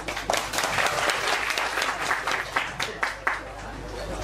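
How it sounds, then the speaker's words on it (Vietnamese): An audience at a southern Vietnamese bamboo flute gathering gives a round of applause, dense clapping close and fairly loud, fading slightly with a few sharper claps toward the end, under a voice. "cho anh mã một tràng pháo tay này đi ạ"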